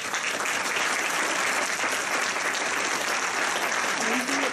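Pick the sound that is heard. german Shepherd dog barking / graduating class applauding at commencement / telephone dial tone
graduating class applauding at commencement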